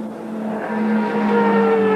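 An Audi Quattro turbo race car with a 2.2 litre five-cylinder turbocharged engine and four-wheel drive, running at a 1992 modified saloon race at Kyalami, its engine droning loud and close with steady pitch, no talk over it.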